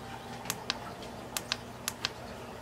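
Crisp plastic button clicks on an Eheim automatic fish feeder, about seven separate taps spaced irregularly, close up and quiet against a faint background hum.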